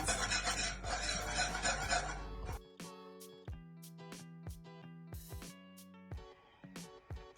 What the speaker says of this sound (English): just whisk it out a little bit more